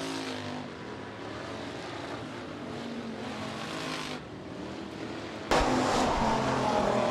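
USRA Hobby Stock race cars roar through a dirt-track heat race at Rapid Speedway, a steady dense engine drone from the pack that shifts as cars pass, swelling sharply louder near the end as they sweep close by.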